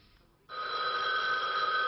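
An old-style telephone bell starts abruptly and rings steadily with a bright, continuous metallic trill, close and clear, with no voices over it.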